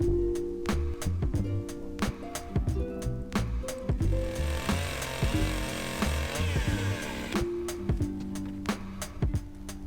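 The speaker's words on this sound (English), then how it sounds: "I'm cutting notches into the vertical supports that the frame of the roller will rest on." A power saw cuts notches into wooden vertical supports for a roller frame during an outdoor build, an intermittent buzzing whine broken by sharp knocks and taps, close and fairly loud.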